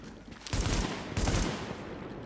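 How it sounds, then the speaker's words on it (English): Gunfire in The Division beta, a shooter video game: two heavy bursts of shots, one near the start and another a moment later, loud and close, with no talk. "Why are you shooting at me?"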